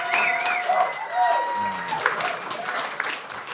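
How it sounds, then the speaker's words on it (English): A studio audience claps during a comedy podcast, a short burst of applause mixed with talking and laughter. "You guys are clapping."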